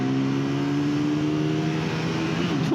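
A Triumph Tracker 400 motorcycle accelerates hard from standstill toward 100, its engine note loud and close, climbing steadily in pitch and then shifting near the end.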